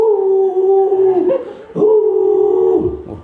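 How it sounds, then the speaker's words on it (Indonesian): A single dog howls up close and loud, a long wavering wail that dips and then rises again for a second drawn-out howl fading at the end. "Jangan buka pintu, apalagi disertai dengan lolongan anjing."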